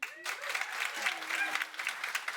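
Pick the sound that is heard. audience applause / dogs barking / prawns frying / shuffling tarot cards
audience applause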